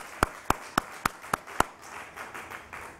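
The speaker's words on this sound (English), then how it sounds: "It's a great milestone, and I think that deserves a huge round of applause." Six loud, sharp claps ring out at an even, steady pace, like a slow round of clapping at a Nasdaq opening bell ceremony, then fade into a low room hum.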